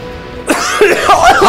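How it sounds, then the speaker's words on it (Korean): A person coughing during a League of Legends broadcast, giving a few harsh, close, rough bursts with throaty vocal tones in quick succession. "기침 너무 나셔가지고"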